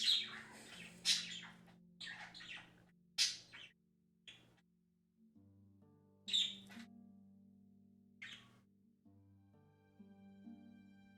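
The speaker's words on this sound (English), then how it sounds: "Oh my god, my birds." Pet birds chirp and squawk indoors in sharp, bright bursts scattered across the stretch. Some are loud and close, others softer, over a low steady hum.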